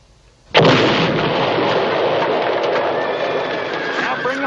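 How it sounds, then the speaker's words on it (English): A single loud gunshot booms close by after a moment of quiet, followed by a long rumbling roar and echo that fills the rest of the moment without fading, as in a 1972 western film. "Now shoot it, but don't miss by 2 inches."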